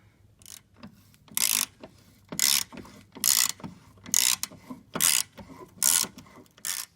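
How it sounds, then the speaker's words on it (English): A ratchet works a 10mm bolt off the fuel filter strap of a Fiero GT. Close, sharp clicking bursts repeat about once a second, seven in all, with quiet pauses between. "That's a 10mm bolt. So let's go ahead and take that off"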